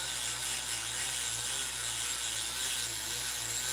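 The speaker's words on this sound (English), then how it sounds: "I'm smoothly just running over the areas that I want to take the agate off with." A rotary burr grinds and shapes fire agate stone with a steady, high, whining buzz, heard close and uninterrupted with no talking.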